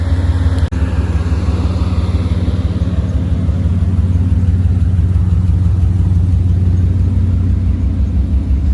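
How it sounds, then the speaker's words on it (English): A car engine rumbles steadily at a low idle, close and continuous, after a brief click near the beginning. "The moment you press the button and the car starts up, I think it's a quite good sound to hear."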